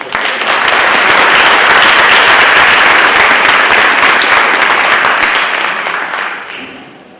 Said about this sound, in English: Please give our board a round of applause.